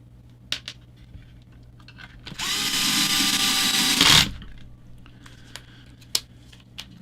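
A Dewalt power drill fitted with Traxxas bits drives a screw during a Vanquish VS4-10 LS rock crawler build, one steady whirring burst of about two seconds, close and loud, with small clicks of parts handled before and after.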